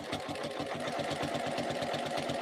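A sewing machine stitches the fabric edges of a quilted Cuddle backpack, a steady, rapid mechanical chatter running continuously at close range with no talk over it.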